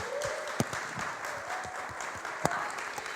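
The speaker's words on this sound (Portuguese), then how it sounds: "Outra salva de palmas, Nazaré" Audience at a leadership lecture breaks into steady, dense applause, a continuous wash of many hands with a few sharper claps standing out, filling the whole stretch without speech on top.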